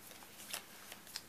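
Playing cards being shuffled back into a deck in a tabletop card game, heard as a few soft, quiet riffling bursts and brushing sounds, close up and without talking.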